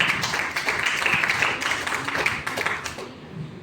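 Audience applause at a direct selling seminar, a dense, sustained patter of many hands clapping that fades slightly toward the end, with no talk over it.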